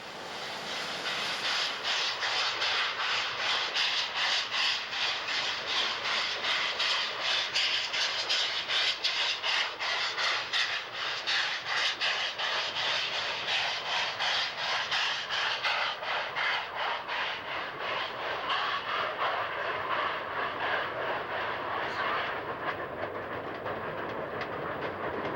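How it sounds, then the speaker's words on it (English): Royal Hudson steam locomotive hauling a passenger excursion train along the forested ocean coast from North Vancouver toward Squamish, heard as a steady, loud rolling rumble with continuous clickety-clack of wheels on rail throughout, no voices. "The Royal Hudson pulls passenger excursion trips from North Vancouver northward to the town of Squamish"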